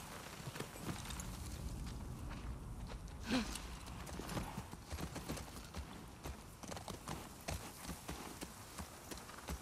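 A horse walks with steady, moderately close clip-clop hoofbeats in The Last of Us Part II, the hooves sounding over a faint outdoor ambience with no talking.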